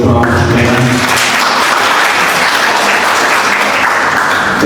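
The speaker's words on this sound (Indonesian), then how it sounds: "Kita berikan tepuk tangan untuk Prof. Menas" Audience applause at a campus event, loud and dense clapping that swells in after a brief musical tone at the start and stays steady to the end.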